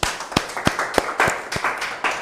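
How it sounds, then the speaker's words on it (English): Scattered claps at an International Women's Day 2025 event, a small audience clapping in a sparse, uneven rhythm with a few louder hand claps standing out, fairly close and with no talk over it. "Can we give a round of applause to Frest Foundation?"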